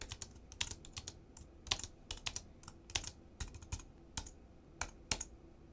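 Rapid typing on a computer keyboard, close and crisp, with irregular clusters of key clicks and brief pauses between bursts, heard alone without speech.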